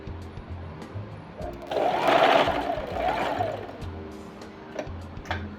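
Sewing machine stitching fabric: a single close whirring run of about two seconds, loud and steady, rising from and falling back to quiet mechanical ticking.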